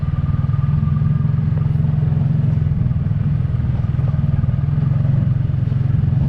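ATV engine droning loudly and steadily while riding on a dusty desert trail near North Lake Pleasant, Arizona, a close, rough low-pitched rumble with rapid pulsing and no talking.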